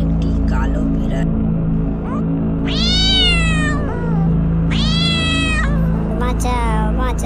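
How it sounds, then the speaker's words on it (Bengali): A cartoon black cat lets out a few drawn-out, wavering meows, loud and up front over a steady low background hum, with short pauses between the calls. "হঠাৎ তার সামনে একটি কালো বিড়াল।"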